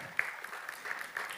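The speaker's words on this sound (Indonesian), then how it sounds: "Boleh kita tepuk tangan buat Pastor Belsar?" Faint, thin clapping from a church congregation welcoming a pastor during an online service, soft and distant with a few sharper claps standing out.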